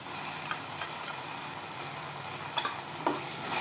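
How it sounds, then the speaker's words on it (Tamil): Ginger garlic paste sautéing in a pan, a continuous close sizzle with a few brief scrapes of stirring near the end, alone with no voices. "போட்டு அதே வதக்குங்க இந்த வாசனை பச்சை வாடை போடுற அளவுக்கு வதக்குங்க"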